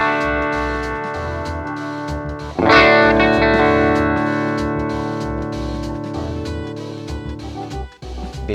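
An electric guitar runs through a Sonicake Tiny Stomp multi-effects pedal with the distortion turned down: a few muted plucks, then one loud strummed chord that rings out and slowly decays with a shimmering chorus-like sheen.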